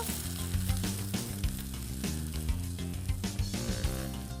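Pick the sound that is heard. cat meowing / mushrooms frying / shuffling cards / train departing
mushrooms frying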